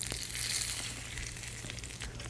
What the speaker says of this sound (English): Now I always like to fry my cumin seeds till they're very dark for this dal.